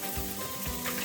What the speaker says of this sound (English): give that a little bit of a stir so it doesn't stick